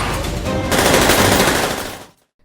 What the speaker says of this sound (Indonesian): mulai menembaki anak buah Chonmin satu persatu